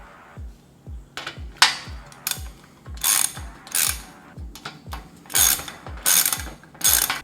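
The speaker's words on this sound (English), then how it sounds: "Just go ahead and tighten these down." Ratchet wrench clicking rapidly as rock slider bolts are tightened, close and distinct, in a steady series of rhythmic pawl ticks broken by brief bursts of louder metallic scraping, with no talking.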